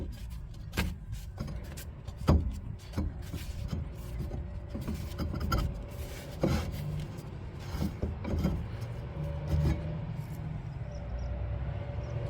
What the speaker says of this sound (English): You should be able to pull or prise it away.